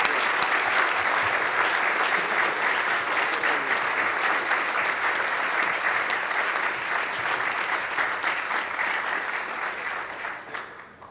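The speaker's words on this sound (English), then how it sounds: "He was greeted by thunderous applause, and I ask you to do that again." Loud, sustained applause from a large audience at a global health leadership awards ceremony, a dense wash of clapping that holds steady for about eleven seconds before tapering slightly at the end.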